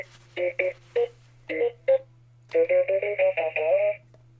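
Droid Depot R-unit astromech droid with the purple personality chip, sounding clear electronic chirps and warbling beeps in short bursts followed by a longer burbling phrase, over a low steady hum.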